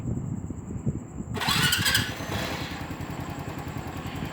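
A Honda Wave125i motorcycle is started by the button: a short burst of starter whir and catch, then the engine settles into a steady, close idle putter.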